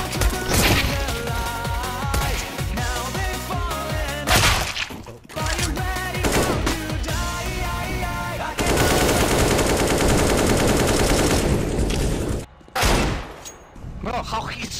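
Near-constant video game gunfire, dense automatic bursts with crashing impacts, loud and sustained across the whole stretch with only brief gaps and a little talk mixed in.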